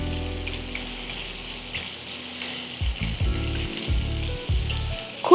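Fish pieces frying in hot oil for an Asian-style oyster sauce dish, a steady loud sizzle with bursts of crackling and spattering, no talk.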